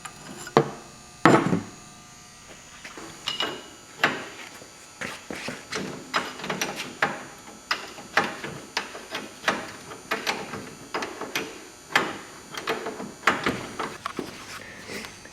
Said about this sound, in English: Then you got my wrench on there and I'm going to loosen it up that way.